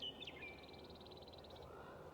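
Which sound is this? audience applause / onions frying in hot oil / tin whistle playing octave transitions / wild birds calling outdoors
wild birds calling outdoors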